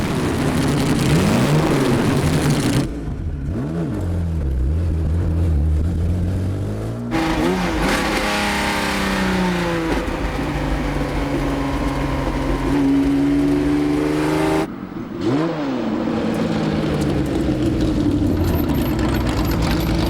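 A Jaguar D-Type race car on a road test, its engine loud and close, revving hard through repeated gear changes with rising and falling pitch and brief lifts between accelerations.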